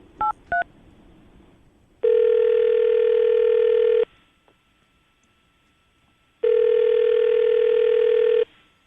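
Two quick dial tones beep, then two long ringback tones sound about two seconds each, separated by a pause of near silence.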